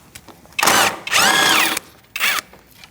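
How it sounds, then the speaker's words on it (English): A power tool with a 10mm socket removing a bolt from the front bumper cover of a 2008-2014 Mercedes-Benz C300, three short, loud whirring bursts separated by brief pauses, close up. "Using a 10mm socket, we're going to take out this bolt."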